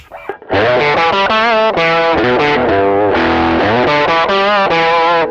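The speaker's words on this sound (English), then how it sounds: "Then pushing it with a tube screamer with kind of gains at 3 o'clock, volumes at 12, tones at 12" Crunchy electric guitar chords overdriven by a Tube Screamer pedal with gain high, ringing out loud and close, a sequence of strummed chords with sustained distorted tone.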